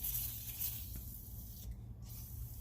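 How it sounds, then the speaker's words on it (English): A steady aerosol hiss sprays continuously close by between the studs of a stuck brake rotor, with a brief break near the end and a faint mechanical clink. "Give a little more spray between the studs."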